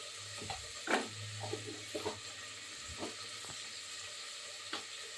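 A faint, steady sizzle of tomatoes sautéing in a pan, with occasional soft clinks and scrapes of stirring.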